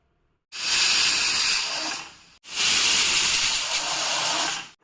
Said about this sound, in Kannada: ಕುಕ್ಕರ್ ಮುಚ್ಚಳವನ್ನು ಮುಚ್ಚಿ 2 ಕೂಗನ್ನು ಕೂಗಿಸಿಕೊಳ್ಳಿ